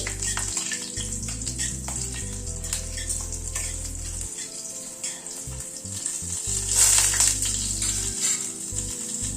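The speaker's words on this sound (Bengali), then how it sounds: "গ্যাসের ফ্লেমটাকে কমিয়ে দিলাম, দিয়ে ফোড়নটাকে ক্র্যাক করিয়ে নিচ্ছি।" Whole spices with asafoetida and a slit green chilli crackling in hot oil on a low flame, a steady close sizzle with scattered pops and a brief louder hiss late on, no speech.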